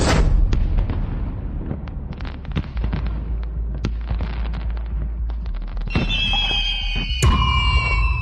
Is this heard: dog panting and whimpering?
no